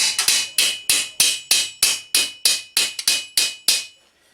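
A hammer strikes a metal armour greave in about a dozen sharp, evenly spaced blows, each ringing briefly before the next, close and loud, then stopping.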